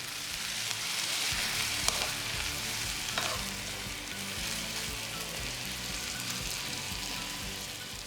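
Chicken siopao filling being stirred in a pan after a splash of water, a soft continuous sizzle with occasional scrapes of the spoon, steady and fairly quiet throughout.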